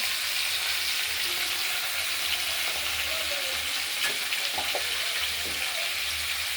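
Potatoes, red potatoes, flat beans, cauliflower, stems and green banana with salt and turmeric sizzle steadily in a pan, a constant close hiss with a few soft stirring scrapes and clicks.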